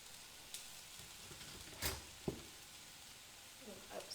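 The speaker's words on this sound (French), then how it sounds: "Donc, hop, ça grille." A vegetable patty for a homemade burger sizzles quietly in a frying pan, a soft steady hiss broken by a few sharp clicks and pops from the pan.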